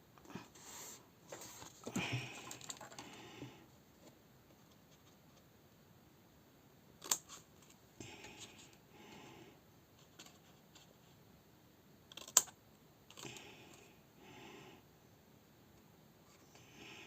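Scissors snip small pieces for a handmade craft frame, giving soft scattered cuts and rustles with a few sharp clicks, close and quiet, with no talking.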